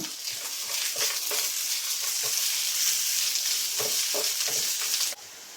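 Onion, ginger, garlic and green chili fry in a pan with a steady, close hiss, broken by small bursts of stirring. The sizzle drops off sharply near the end.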